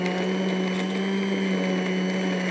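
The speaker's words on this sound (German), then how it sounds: "Dann wird das Ganze püriert." A blender purées a béchamel sauce with a loud, steady motor whine and a constant hum, close and unbroken throughout.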